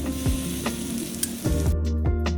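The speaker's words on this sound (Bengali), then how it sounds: "একটা বড় মাপের টমেটো ছোট ছোট করে কুচিরে করে রেখেছিলাম সেটাই দিয়ে দিচ্ছি" Chopped large tomato hits hot oil and spice in a frying pan, giving a loud, steady sizzle with a few stirring scrapes and clatters, close and without voices.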